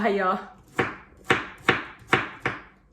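A knife chopping carrots on a board, five crisp, evenly spaced cuts at close range, each a sharp knock that dies away quickly, after a short burst of voice at the start.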